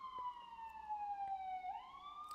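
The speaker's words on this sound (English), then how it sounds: "And here comes the sirens." An emergency siren passes outside, heard faint and distant as a single sustained wailing tone that slowly falls and then bends upward again, steady throughout with no talking.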